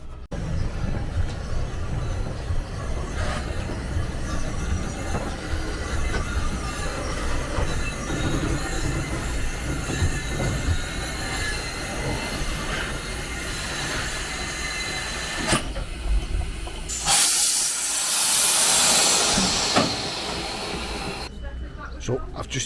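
A small narrow gauge steam train in Wales rumbles and clatters along the rails with steady wheel noise, ending in a burst of hissing steam.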